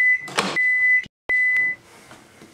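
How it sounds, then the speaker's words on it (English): A microwave oven sounding a series of long electronic beeps with short gaps between them, loud and close, with no voices. "Do we really need that many beeps microwave?"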